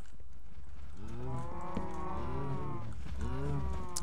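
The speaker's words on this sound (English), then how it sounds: "Shut up, cows." Cows mooing in the video game Minecraft, two long drawn-out moos close by, the second following soon after the first, over a steady background hum.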